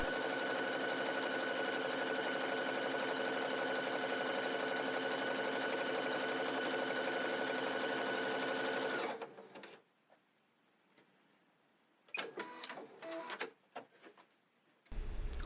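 An EverSewn Sparrow 30S sewing machine stitches decorative patterns at steady speed, a loud, even mechanical whir for about nine seconds before stopping, followed by a few short clicks and handling noises.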